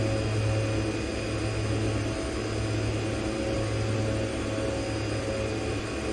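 A de Havilland Twin Otter turboprop engine in the X-Plane 11 flight simulator hums with a steady, dense drone and faint tonal whine, loud and continuous with no voices.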